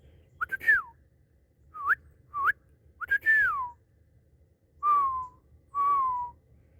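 A person whistles a dog-call pattern outdoors in freezing cold weather: several short rising chirps, then two longer sliding whistles, clear and fairly close with quiet pauses between them.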